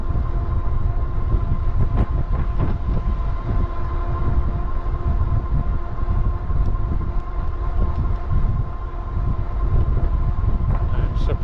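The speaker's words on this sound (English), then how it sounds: "there's a sprinter going in the same direction, because then all the gates come down" A passenger train, a Sprinter, passes close beside a rail trail, rumbling steadily with a continuous low roar, steady tones layered over it, and occasional clanks and rattles throughout.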